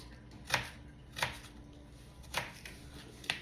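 A knife slices through an onion on a board in four distinct, unhurried cuts, each a crisp close chop with a brief crunch, quiet in between.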